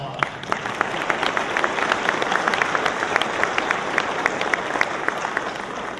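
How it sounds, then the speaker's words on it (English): Audience at a Marine Corps birthday celebration in Branson, Missouri, applauding steadily: dense, sustained clapping from a large crowd with sharp individual claps standing out, filling the room for several seconds without pause. "Give yourselves a round of applause."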